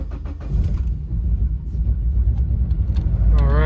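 A 1990 Subaru 2.2-liter boxer engine idles roughly with a misfire, a steady low rumble that swells louder toward the end, close by with no talk over it.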